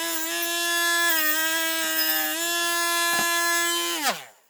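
A multi-tool fitted with a bristle brush runs at a steady high-pitched whine cleaning a Matchbox scaffolding truck, holding a constant tone with a brief knock before winding down quickly as it is switched off.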